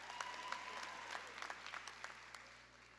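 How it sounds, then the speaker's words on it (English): Scattered applause at a college commencement ceremony, faint and distant, with individual claps standing out over a low steady hum. "You feel free to clap"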